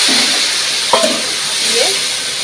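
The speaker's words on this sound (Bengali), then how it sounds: "এই পেস্টটা এই তেলের মধ্যে আমি দিয়ে দেব।" Spice paste with chili powder added to hot oil in a pan, giving a steady, close sizzle and hiss with a brief clatter of stirring partway through.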